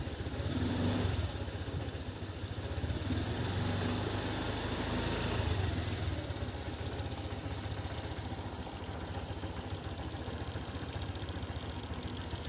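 A Honda Click 125i scooter engine in need of a tune-up idles steadily throughout, a low continuous rumble with a slight rise near the start, no voices.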